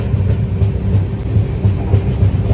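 A long-distance Kanyakumari to Varanasi express train pulls away from Nagercoil Junction, with a steady loud low rumble of the rolling carriages and a faint repeating clickety-clack of wheels over rail joints, with no voices.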